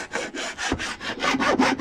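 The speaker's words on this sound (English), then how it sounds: "if you feel a burr or an edge on your saw, you could just literally take a file." A hand file grinding across a chainsaw chain to take off a burr, a rough rasping scrape in about eight steady back-and-forth strokes, close and loud with no talking.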